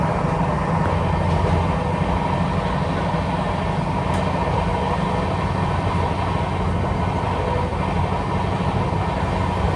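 A Tejas Express train running at high speed gives a continuous loud, dense rumble and roar of wheels on track, heard steadily from inside with no pauses or voices.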